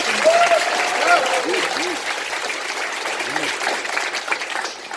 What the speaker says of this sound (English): give a big round of applause again for your city council members